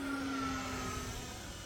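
An E-flite 90mm Viper RC jet in flight gives a steady, faint high whine from some distance, unbroken for a couple of seconds.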